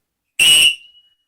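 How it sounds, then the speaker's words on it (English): A single short, loud blast on a Fox 40 whistle, shrill and piercing, lasting about a third of a second before it cuts off and leaves a faint ringing tail. "So in here I've got a Fox 40 whistle. It's a really nice, powerful, high-pitched whistle."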